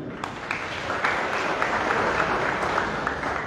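An audience at a party general assembly claps steadily in a sustained, moderately loud round of applause, with sharper individual claps standing out above the crowd's even wash of sound.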